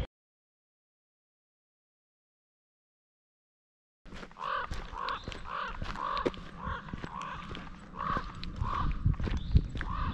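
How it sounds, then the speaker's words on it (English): Several crows caw repeatedly on a hillside in Stone Mountain, Traphill, North Carolina, their calls fairly close and overlapping in a steady series after a few seconds of silence. "It sounds like the crows don't appreciate my intrusion."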